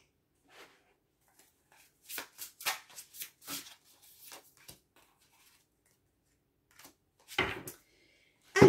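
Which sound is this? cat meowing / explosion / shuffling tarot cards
shuffling tarot cards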